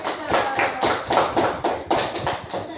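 A classroom of students claps for a classmate, a scattered burst of hand claps close by with uneven rhythm and some overlapping voices.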